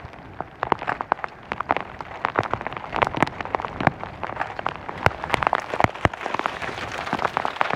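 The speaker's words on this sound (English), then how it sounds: "The hail is tipping it down just now" Hail pelts down on the Isle of Luing in a dense, continuous patter of sharp ticks and cracks, loud and close, with no voices.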